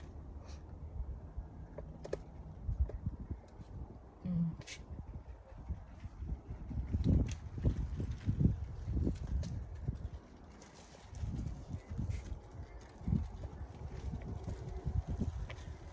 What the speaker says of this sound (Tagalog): mahangin, malamig dito sa likod.